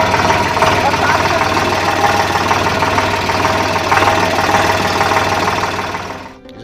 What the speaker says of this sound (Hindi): चला रहे हैं ट्रैक्टर